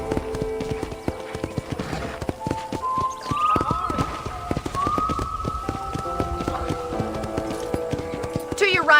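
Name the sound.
horse hooves while riding, video game Red Dead Redemption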